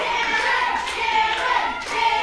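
Wrestling crowd at the WCWO Last Rites 2025 event clapping in steady rhythm behind Cameron Saturn, a dense wash of many hands with faint crowd noise, continuous across the short stretch.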